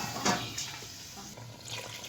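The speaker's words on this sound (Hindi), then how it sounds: "साथ ही हम इसमें हाफ़ गिलास पानी को शामिल कर देंगे।" Half a glass of water is poured into a pot of goat head curry cooking with stock, making a faint, short splashing trickle, soft and close, with no speech.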